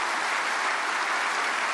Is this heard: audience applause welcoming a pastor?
yes